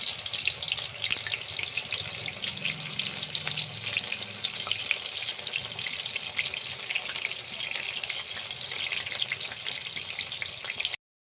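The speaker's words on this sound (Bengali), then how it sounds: "এখন কড়াইতে তেল গরম হয়ে গেছে, একটা একটা করে সয়াবিন ছেড়ে দিচ্ছি" Soya chunks fry in hot oil in a wok, a steady close broadband sizzle running unbroken for about eleven seconds, with soft stirring and bubbling beneath and no voices.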